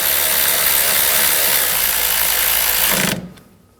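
A ratchet tightens bolts on the 3.0L inline-six engine of a 2007-2013 BMW 328i, a loud, steady mechanical whirring that runs for about three seconds and then cuts off abruptly.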